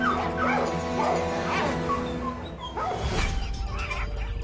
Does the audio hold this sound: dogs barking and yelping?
yes